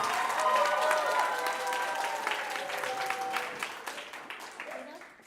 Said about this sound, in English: Well done to all our participants in Division 1. Can we please have a round of applause?